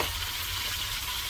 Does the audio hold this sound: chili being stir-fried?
yes